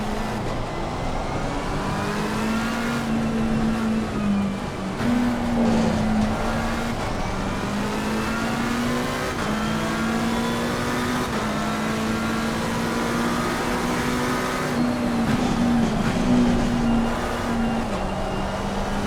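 McLaren 720S Evo engines race in Assetto Corsa at Spa-Francorchamps in mixed conditions, with a continuous loud engine drone rising and falling through repeated gear shifts and revving, other cars audible around it.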